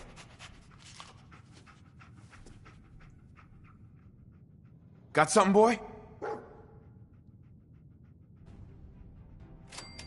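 Dog companion in Fallout 4 gives a short burst of barking around the middle, with light panting, under a man's speech in a quiet game scene.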